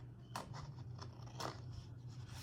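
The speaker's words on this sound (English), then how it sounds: "using my scissors, cut off" A few quiet snips of scissors cutting paper, two sharper crisp cuts among softer crunches, faint and close.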